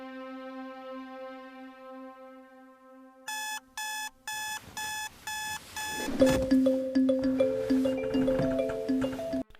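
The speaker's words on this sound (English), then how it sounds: "There's no point for this alarm to go off" An alarm clock rings in an animated film, a tonal chime giving way to loud, rapid pulsed bursts and then a continuous ringing that runs to the end, close and prominent with no talking.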